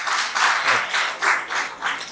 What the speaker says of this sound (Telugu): సహజంగానే ఆ క్లాప్స్ వచ్చినందుకు ధన్యవాదాలు